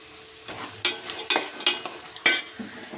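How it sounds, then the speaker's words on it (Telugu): Chopped green chillies go into a hot pan and are stirred, soft sizzling frying under several sharp scrapes and clinks of a spoon against the pan, close and without talk. "ఇవి కోసుకున్న పచ్చిమిరపకాయల ముక్కల్ని కూడా ఇదిగోండి వేసుకుంటున్నా"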